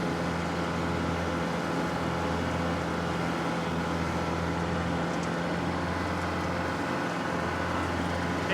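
Kubota L4060 tractor pulling a flexwing mower in its lowest gear, a steady low engine drone with a constant hum running throughout, no talk over it.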